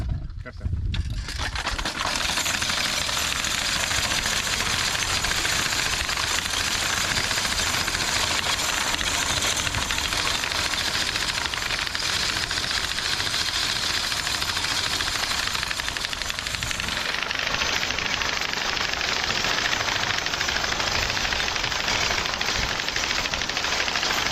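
Hay mower drawn by draft horses cuts through a lodged hay field, a steady loud clattering mechanical chatter running continuously from start to end with no pauses.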